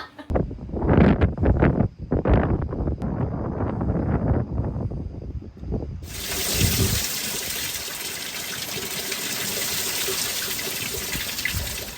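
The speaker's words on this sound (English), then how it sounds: "The wind has picked up. It's like a constant 20 knots now here in the pilot house" Strong 20-knot wind blows at night around an anchored sailboat, heard from inside the pilot house: irregular gusty thumps at first, then a loud, steady, rushing roar.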